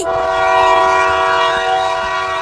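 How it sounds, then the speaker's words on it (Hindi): A train at a railway station blows a steady, loud whistle that holds unbroken and close for the whole stretch, with no voices over it. "ट्रेन चलने वाली है, वो सीटी मार रही है।"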